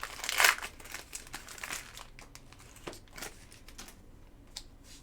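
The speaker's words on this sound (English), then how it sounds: "Boxes are a little tough to open." Trading card boxes being opened by hand, with close crinkling and tearing of wrapper and cardboard, a louder rip early on, then scattered lighter crackles and taps.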